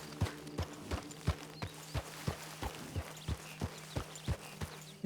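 A horse's hooves clop in an even, steady walking rhythm, about a dozen distinct thuds, while riding from Blackwater to Tumbleweed in Red Dead Redemption 2, close and clear over quiet ambient background.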